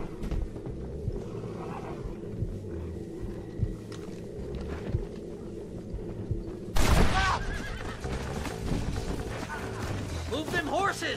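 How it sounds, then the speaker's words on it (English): Horses in Red Dead Redemption neighing while hitched to a wagon, a loud whinny bursting out after a stretch of game ambience with hoof clatter, with voices talking throughout. "The horses won't go!"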